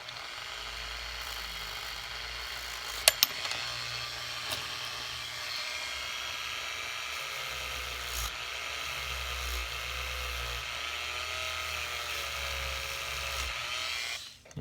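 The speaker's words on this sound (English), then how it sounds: "I might just use my Dremel on the outside." A Dremel rotary tool whines steadily at high speed while grinding the outside of a 14K gold emerald pendant, with a continuous buzzing drone and a few sharp clicks early on, close and sustained.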